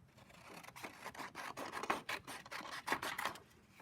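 Scissors cut paper to shape a house silhouette, a rapid series of close, crisp snipping and rasping strokes over about four seconds, quiet and uninterrupted by speech.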